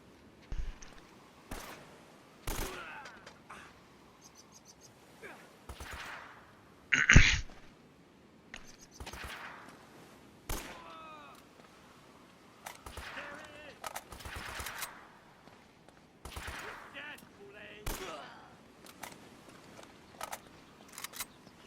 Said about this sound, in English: I want to shoot these guys.